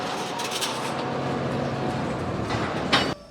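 Uncoupled railroad cars rolling during flat-yard switching on an industrial track, a continuous close rumbling roll with faint wheel clicks and a brief squeal near the end before it cuts off.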